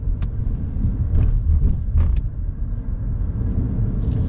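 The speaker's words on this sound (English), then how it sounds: "Just a very smooth transition with the engine turning on when needed." A 2026 Ford Maverick XL Hybrid truck pulls away from a light as its inline four-cylinder engine starts up, a low, steady rumble heard from inside the cab with a few faint clicks.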